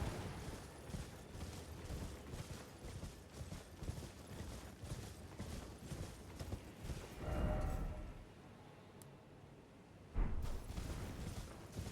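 A horse's hooves clip-clop in Elden Ring, a rhythmic series of muffled thuds under game ambience, briefly fading out before a heavier clatter returns near the end.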